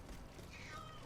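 A cat gives one short, soft meow close by during gameplay of an action game, faint under a low background hum.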